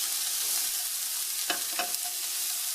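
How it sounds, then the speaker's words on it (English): Shredded Brussels sprouts frying in a pan with bacon and caramelised onion, a steady hiss of sizzling fat with a few sharp stirring knocks midway, close and without talk. "Now it is time to add the shredded Brussels sprouts."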